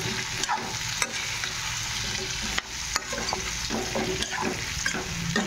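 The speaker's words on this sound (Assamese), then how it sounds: "আৰু এতিয়া ধুনীয়াকৈ লৰাই দিম।" Elephant foot yam and potatoes frying in a pan, with a steady close sizzle and occasional scraping knocks of a spatula as they are stirred.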